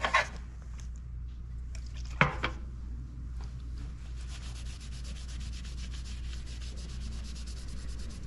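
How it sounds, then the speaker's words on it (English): A rag soaked in lacquer thinner scrubs a bandsaw's surface, with repeated close rubbing strokes, a sharp knock partway through, and steady scrubbing texture continuing under a low background hum. "scrape it slightly with your fingernail underneath the rag here"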